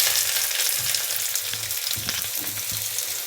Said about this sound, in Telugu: తగినంత ఆయిల్ దాంట్లో పోసుకున్నాను. ఇప్పుడు మనము ఉల్లిపాయ ముక్కలను ఇందులో వేద్దాము.